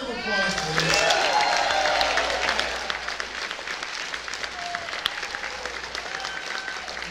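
Audience applause fills a hall at the closing ceremony of the Megaplex fan convention, a loud sustained wash of clapping that swells in the first seconds, then gradually thins. Cheers and voices mix in, with a speaker's voice briefly heard.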